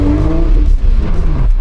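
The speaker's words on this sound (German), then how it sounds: "Diese Downshifts." A car engine revving hard through downshifts, loud and close, with strong humming engine tones sliding in pitch over continuous road and drivetrain noise.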